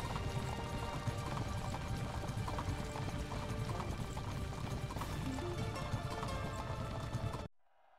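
Galloping horses' hooves pulling chariots in a race in the Asterix at the Olympic Games video game, a dense, continuous clatter of hooves that stops abruptly at the end.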